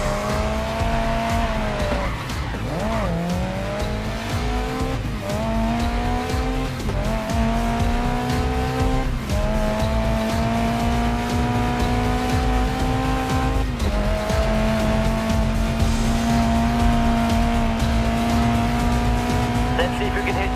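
Race car in the video game Grid Legends, its engine whining steadily while the tires squeal through a long controlled slide, loud and continuous across the whole stretch as the pitch rises and dips with gear changes and throttle.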